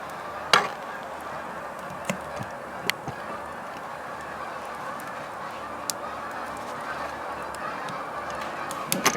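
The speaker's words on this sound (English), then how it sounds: "There's some geese." Geese honking outdoors, a few scattered sharp calls at a distance over a steady low background rumble.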